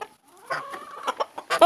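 A rooster clucks in short, close bursts, a few sharp clucks and a brief squawk over an otherwise quiet farmyard background.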